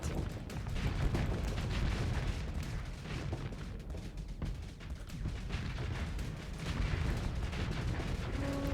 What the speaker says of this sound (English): Oh look, these are Trident torpedoes.